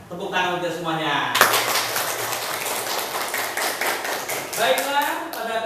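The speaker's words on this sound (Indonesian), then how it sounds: "Tepuk tangan untuk semuanya." Pupils in a classroom during an Islamic studies lesson burst into quick, dense clapping that lasts several seconds. Voices are heard talking before and after the applause.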